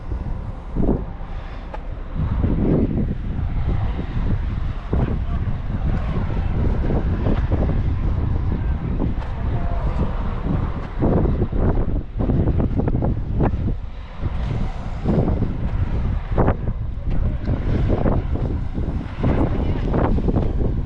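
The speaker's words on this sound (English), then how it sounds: "Yeah, it's windy up here" Strong wind buffets the microphone outdoors at the elevated Osiris Shaft archaeological site, in loud, continuous rumbling gusts, with people talking now and then underneath.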